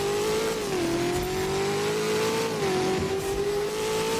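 Tortora Striker car engine in the Driving Empire video game revs steadily with a whining tone that rises and dips slightly twice, loud and continuous, with no talk.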